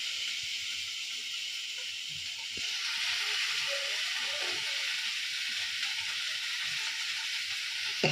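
Fish sizzles steadily in a hot frying pan with crushed garlic, a continuous bright frying hiss that swells louder partway through, close and alone with no talk.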